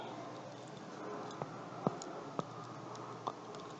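Faint, sharp jaw clicks while the jaw is rolled during a seated chair yoga stretch, four or five isolated ticks spaced irregularly over quiet room tone.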